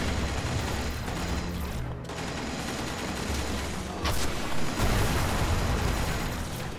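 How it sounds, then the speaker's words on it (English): Rocket launcher fire in the video game Destiny during a Mars strike boss fight, a dense, continuous roar of gunfire and blasts with a louder burst near the end, no talking. "Got that rocket launcher. Let's give it a shot."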